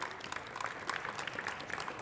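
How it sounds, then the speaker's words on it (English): Audience applause at a live-streamed community event, a steady patter of clapping from a crowd that fills the whole moment without any speech. "Let's give him a round of applause, please."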